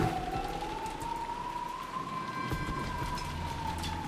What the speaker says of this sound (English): Even the quiet sound of the rain was distracting.